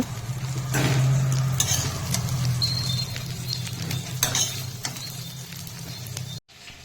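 Shrimp being lightly fried in a pan, a close, steady sizzle with occasional clinks and scrapes of a utensil, cutting off abruptly near the end.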